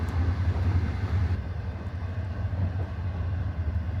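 Sleeper train K7039 runs along the rails past Anda Station, giving off a continuous low rumbling roar with faint clattering, steady and close throughout.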